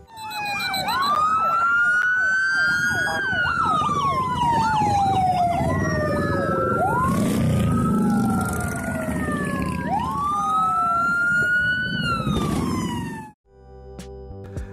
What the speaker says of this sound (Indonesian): kita malah semakin sadar kalau yang bunyiin rotator ternyata Pak Polisi beneran